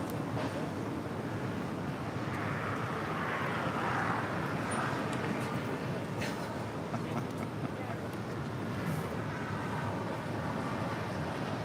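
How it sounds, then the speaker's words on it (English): A Boeing 777 freighter rolls down an airport runway, heard as a steady, broad distant roar with wind buffeting throughout, and faint voices in the background. "we got the 777 freighter now rolling down"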